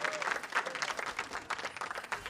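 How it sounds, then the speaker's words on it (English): Crowd applauding in the Riot Games Arena at a League of Legends esports playoff match, dense continuous clapping filling the hall, with a faint voice underneath. "Give a round of applause to yourself in the Riot Games Arena."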